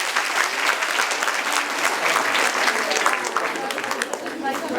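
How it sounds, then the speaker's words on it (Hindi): An audience in a classroom or seminar hall for a student entrepreneurship session claps loudly and continuously, a dense close burst of applause sustained for several seconds. "तालियां अंशिका के लिए यार।"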